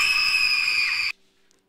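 A player of the horror game Motel Massacre lets out one high-pitched, sustained scream that stops abruptly, leaving near silence.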